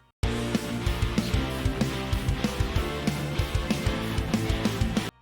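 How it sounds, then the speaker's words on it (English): A French horn counter melody rides over a dense anime battle theme arrangement of driving guitars, bass, violas and piano, with steady rhythmic accents, loud and continuous. "I also threw in this counter melody on French horns"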